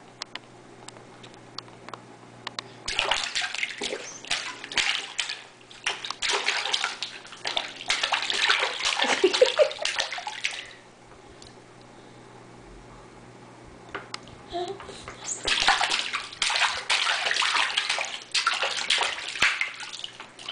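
A small child plays alone with water, splashing and sloshing in long bursts with a quieter pause between them, close and fairly loud with a trickling wash throughout.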